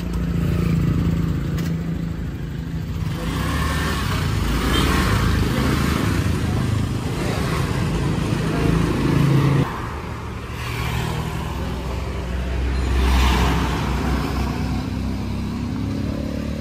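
A Honda Click scooter from Pampanga with a misfiring engine at low throttle, running steadily during a road test, its loud, continuous drone rising and falling with the throttle.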